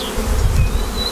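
Close, loud buzzing of honey bees in a crowded 16-frame hive, a dense droning hum with a few higher whines of individual insects passing near.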